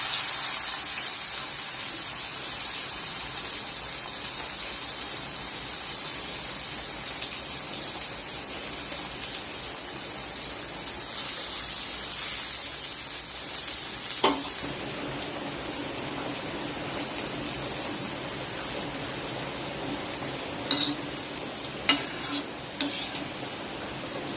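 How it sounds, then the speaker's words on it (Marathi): Turmeric-coated bitter gourd fries in a pan with a steady, moderate sizzle throughout, joined later by a few sharp clicks and scraping taps as the pieces are stirred and turned. "तळायची त्याला छान तळले गेले बघा काळं करायची नाही अशी तळून काढायची"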